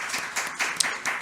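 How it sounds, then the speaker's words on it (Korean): Church congregation at an early-morning New Year prayer service applauding together, a close burst of many hands clapping in quick uneven rhythm, brief and continuous. "우리 박수로 함께 했으면 좋겠습니다"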